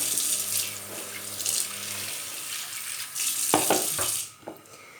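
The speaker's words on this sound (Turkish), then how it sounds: "Şimdi biraz daha su ekleyeceğim." Water pours steadily into a pot of tarhana soup, a continuous splashing rush that stops abruptly near the end, followed by a few soft knocks.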